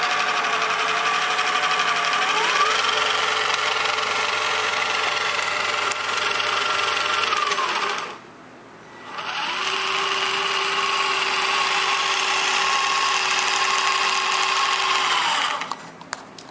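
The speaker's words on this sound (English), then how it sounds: "You can always tell, you know, a really good drivetrain by how slow it can spin." The drivetrain motor of an R/C Disney Nautilus submarine whirs steadily and close up, its pitch shifting as the speed changes. It cuts out briefly midway, then resumes, and no one talks.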